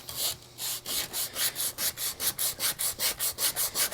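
Rhythmic back-and-forth scraping of 80-grit sandpaper on a wooden guitar body, steady strokes about four per second, close and fairly loud with a hissy texture.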